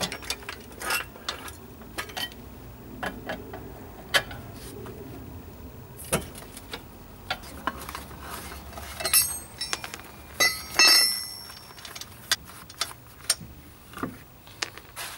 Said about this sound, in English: Jack up the front and remove the wheel bolts.